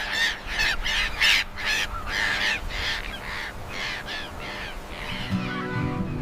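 Seagulls give harsh calls in a rapid series of squawks, fairly loud and rough, then fade out toward the end.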